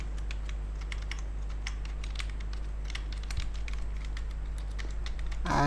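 Steady, brisk typing on a computer keyboard, with fast close key clicks throughout over a low constant hum.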